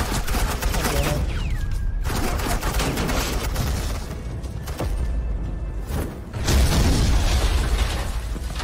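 Sustained suppressing gunfire in the Batman: The Enemy Within video game, a loud, dense fusillade of rapid shots and booms with brief gaps, ending in a heavier burst.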